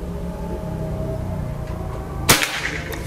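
A single PCP air rifle shot, a sharp near crack that rings briefly, heard alone over a steady low background hum.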